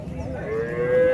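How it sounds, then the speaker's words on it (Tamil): A Jersey cow at a busy cattle market in Matrapalli, Tirupattur district, gives one loud, close, rising moo that swells and holds toward the end. "நல்லா அருமையான ஒரு ஜெர்சி மாடு."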